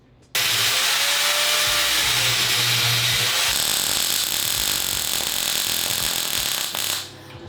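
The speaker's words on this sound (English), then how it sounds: "So just keep drilling away." A power drill works steadily on a reverse trike go-kart's heavy swing arm mount, a loud continuous whine and grind running almost unbroken for about seven seconds before cutting off near the end.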